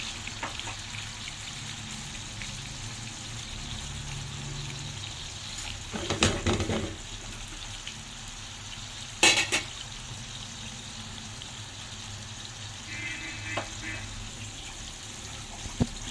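Duck liver frying in a pan and being stirred, a steady soft sizzle with a few louder scraping stirs, fairly quiet and close.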